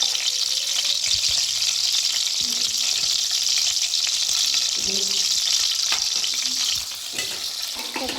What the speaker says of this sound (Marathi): आता आपण ह्याच्यामध्ये ह्या मिरच्या घालून घेऊया